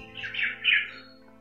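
Two harsh, raspy crow calls in quick succession, moderately distant, over a faint steady hum.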